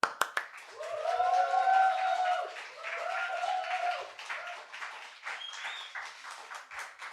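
A congregation at a Sunday joint worship service claps and cheers to welcome a guest pastor: loud, sustained crowd whoops and calls over steady clapping, easing off toward the end.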